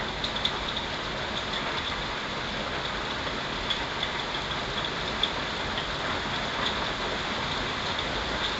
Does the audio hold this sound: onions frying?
no